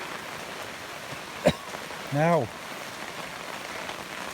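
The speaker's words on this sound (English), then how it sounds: "So I've never known rain like this here" Heavy rain falls on a garden beside a pool in a steady, even hiss, with a sharp knock partway through and someone briefly speaking.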